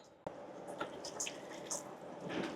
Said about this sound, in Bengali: আমি এখন একটু জল দিয়ে দেব